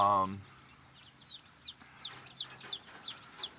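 Several young chicks cluck and cheep in short repeated bursts, nearby, with a brief low call at the start; the larger ones are black copper Marans mix.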